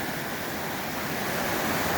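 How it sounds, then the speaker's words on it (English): Water cascading down Dunn's Falls in Maine, a steady broadband rush and roar of falling water that holds constant throughout, close and fairly loud with no voices. "sit here and just enjoy listening to the water cascade down"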